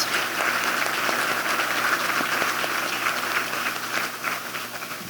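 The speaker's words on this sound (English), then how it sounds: "So let's give him one more big round of applause." A community meeting audience at a keynote presentation gives a steady round of applause, dense and even throughout before tapering slightly near the end, with no talk over it.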